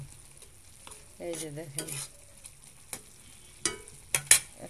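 Noodles boiling in a pot with the lid lifted, brief stirring clatters and sharp metallic knocks against the rim over a low bubbling hiss, with a short spoken remark in between.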